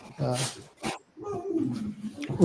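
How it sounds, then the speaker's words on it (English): A dog barks and whimpers a few times nearby, with short yips mixed into people talking. "barking at people"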